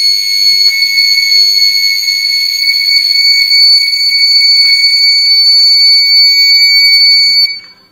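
A loud, steady electronic buzzer alarm from a lift's overload alert sounds continuously for several seconds, then cuts off abruptly.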